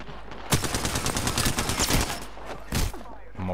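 Bursts of rapid automatic gunfire in Apex Legends, a dense rattling volley lasting over a second followed by a short pause and another sharp burst, loud and close.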